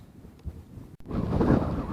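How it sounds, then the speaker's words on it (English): Strong wind buffets an outdoor camera microphone, a low, rough rumble that starts soft, cuts out for a moment, then surges louder and stays heavy to the end. "it's so windy today, just in case you guys can't tell from the audio"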